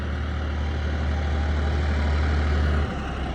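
A heavy tractor engine chugs steadily at close range with a deep low rumble, cutting down slightly near the end.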